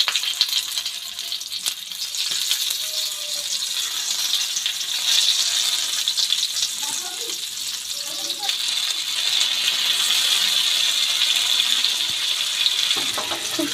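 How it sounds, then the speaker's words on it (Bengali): Tomatoes set on a hot oiled griddle give off a continuous sizzle and crackle throughout, with faint clinks of handling now and then and a voice briefly in the background. "এবার টমেটো যেগুলো আমি রেডি করে রেখেছিলাম সেগুলো চাটুর উপর আস্তে আস্তে করে এই ঢাকা সমেতই বসিয়ে দেব"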